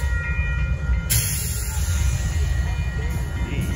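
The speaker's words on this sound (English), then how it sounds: "Amtrak is coming by, and then once Amtrak is out of here, he'll get a green." Amtrak Texas Eagle southbound passenger train passing a crossing at Dittmar Road in Austin, a steady loud rumble of rolling wheels and engine throughout, close by and with no talk over it.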